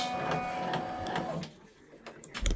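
Brother embroidery machine stitching a freestanding gingerbread village bridge piece: a steady, close mechanical whir with rapid needle rhythm, then it slows and quiets before a few louder clunks at the end.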